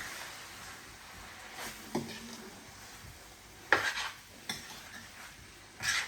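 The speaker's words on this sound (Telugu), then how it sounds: "సో హై ఫ్లేమ్ మీద మనం ఫ్రై చేసుకుంటున్నాం" Chicken frying in a pan over a high flame gives a faint steady sizzle, broken by a few sharp scrapes and clinks of a spoon against the pan, close up and without talking.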